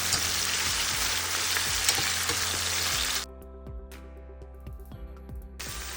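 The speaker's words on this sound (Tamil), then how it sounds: "வெங்காயம், பூண்டு, பச்சை மிளகாய், காஞ்ச மிளகாய், கருவேப்பிலை, கடுகு, ஜீரகம் சேர்த்து நம்ம இது தாளிச்சிக்கலாம்" Onion, garlic, green and dried chillies, curry leaves, mustard seeds and cumin fry in hot oil for a cabbage poriyal, giving a dense close sizzle. Midway the sizzle eases to softer crackling, with repeated stirring taps throughout.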